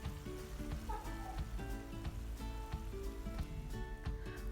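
Fresh green beans (börülce) in olive oil simmer in a pot, giving a steady close sizzle and bubbling crackle that runs continuously and evenly throughout, with no voices.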